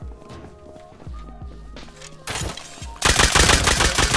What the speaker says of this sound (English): I got nail gunned and died